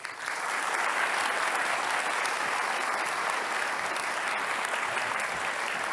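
A debate audience applauds the candidates with steady, dense clapping that swells quickly and holds at full strength for several seconds, with no voices over it.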